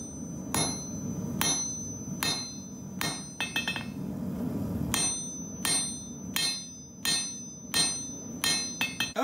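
A hammer strikes steel while a Grosse Messer blade is forged, ringing out in a loud, close series of sharp blows at an uneven, steady working pace.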